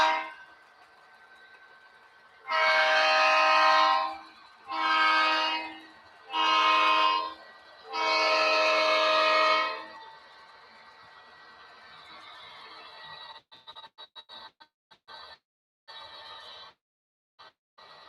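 A model train warbonnet locomotive on a loft layout blasts its horn in four long, loud tonal blasts, followed by quieter clicking and rolling noises.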